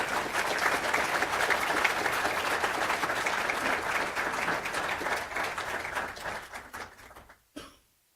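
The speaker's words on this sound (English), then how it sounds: "I would love it if you would give them a round of applause." At a college honors night, a large audience gives honorees loud, sustained applause. It holds dense and even for about seven seconds, then tapers off quickly into near silence with a final brief rustle.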